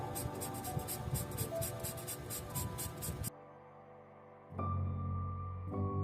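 Graphite pencil hatching on paper: a quick, regular series of short close scratchy strokes that stops abruptly, followed by quieter background tones with no further strokes.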